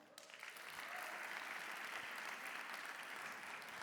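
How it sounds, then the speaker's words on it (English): Audience applause for a children's choir from a local Rome school at a UN awards ceremony, a steady dense clapping that swells quickly and holds at full strength throughout. "Give them a round of applause as well."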